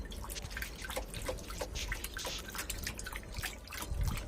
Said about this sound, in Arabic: هنا هنقلب طبعا الدواء جوه المية عشان يدوب جوه المية وما يتركمش تحت